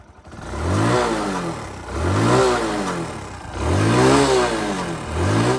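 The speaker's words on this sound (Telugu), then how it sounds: "ఎగ్జాస్ట్ నోట్ అయితే ఒకసారి వినండి." A 15-year-old restored Hero Honda Passion Plus motorcycle revs up three times in a row, each rise in pitch falling back between blips, loud and close to the exhaust.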